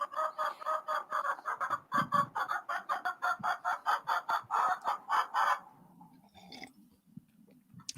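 Young Rhode Island Red hens clucking in a rapid, rhythmic run of calls in the morning in Central Oregon, close and clear, then tapering to quieter scattered clucks and rustling.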